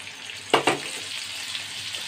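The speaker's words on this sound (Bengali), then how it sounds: "জলটা দিয়ে আমি একটু ভালো করে ফুটতে দিয়ে দিয়েছি" Paneer makhani masala gravy in a pan just after warm water is added, two sharp splashy hisses followed by a soft, steady bubbling sizzle, close by and without voices.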